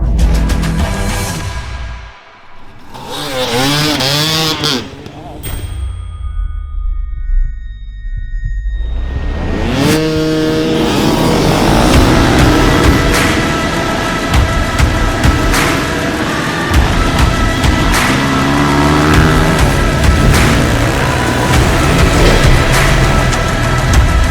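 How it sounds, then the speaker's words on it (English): Hundreds of dirt bikes fire up together at the start of a desert race, a low rumble swelling into a loud, dense, sustained engine roar that fills the rest of the clip. "that banner drops, all those bikes come to life, and it's just a 400-man free-for-all."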